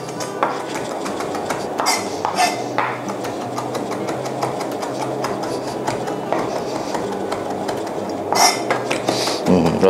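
A knife chops fresh rosemary finely for a pork steak marinade, quick clattering taps against a board in bursts, close and fairly loud with no talking.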